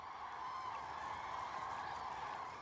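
Cranes calling in a national park: a dense, steady chorus of honking bird calls carries through the whole stretch, like a large flock heard from a moderate distance, with no talk.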